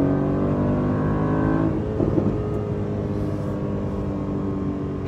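A 2020 Aston Martin DB11's exhaust note rises as the car accelerates in sport mode, a steady harmonic engine tone heard from inside, fading slightly after a couple of seconds into a lower, smoother drone.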